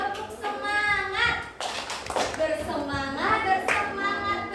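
A school class claps the Indonesian 'tepuk semangat' rhythmic pattern, with crisp patterned hand claps in groups while a voice and children's voices chant along over them.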